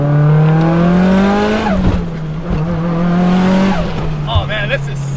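A Mitsubishi Evo accelerates hard in second gear, engine roaring and rising through the revs, then a quick shift drops the pitch and it pulls again, loud and close from inside the car.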